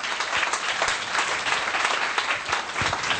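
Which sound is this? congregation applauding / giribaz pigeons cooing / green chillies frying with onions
congregation applauding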